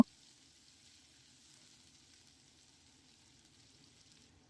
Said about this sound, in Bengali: তেল গরম হতেই দিয়ে দিচ্ছি চারটি মিডিয়াম সাইজের পেঁয়াজ কুচি